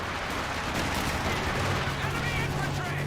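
Gunfire in Company of Heroes 2, with a squad coming under fire from Volksgrenadiers, heard as a dense, constant rumble of shots and artillery thuds, with a commentator talking over it.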